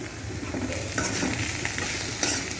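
Greens frying in a pan as a spoon or spatula stirs them, giving a steady close sizzle with scraping strokes throughout, no voices.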